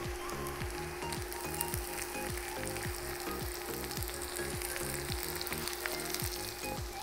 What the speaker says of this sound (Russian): теперь отправляем сюда капусту. Перемешиваем и тушим еще 5-7 минут